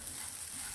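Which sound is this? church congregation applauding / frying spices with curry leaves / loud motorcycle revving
frying spices with curry leaves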